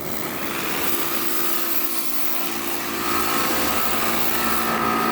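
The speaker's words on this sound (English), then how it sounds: "Look at this little pressure washer here. It's an electric pressure washer." An electric pressure washer runs steadily, spraying water to clean algae off the hull of a Catalina 22 sailboat, a continuous hissing, whining drone that holds at a moderate, even level throughout, getting slightly louder near the end.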